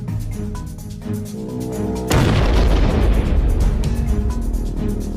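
An anti-tank missile explodes against an Israeli tank: a sudden heavy boom cuts into a low rumbling background, followed by a long roaring, crackling blast that stays loud and dense to the end.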